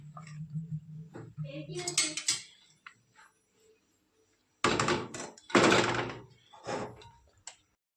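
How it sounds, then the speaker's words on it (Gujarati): Water is stirred with a metal spoon into a pot holding Maggi noodle masala and potato for two packets, giving close scraping clatter, then a pause and more bursts of clinking and stirring. "હવે આપણે નાખશું પાણી બે પેકેટ કરવા છે તો આ બધું મિક્સ કરી અને આપણે ગેસ ઉપર મૂકી દઈશું"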